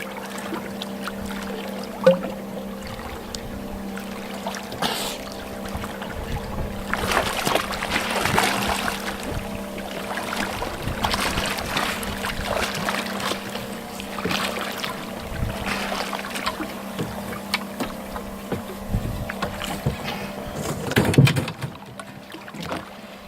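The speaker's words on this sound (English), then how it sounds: "I want to show you how easy it slides through the water." An inflatable 3D dive buoy is towed through water, giving a continuous soft wash and trickle of water against it with faint splashes throughout, no talking.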